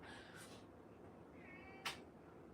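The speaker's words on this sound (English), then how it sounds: "Our cat is yapping." A cat meows twice from outside a door, a drawn-out cry and then a shorter, higher one, sounding faint and somewhat muffled over quiet room noise.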